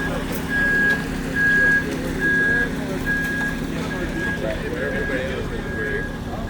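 A concrete truck arrives at a construction site pour, its reversing alarm beeping in an even repeated rhythm over a low diesel engine rumble, with people talking nearby.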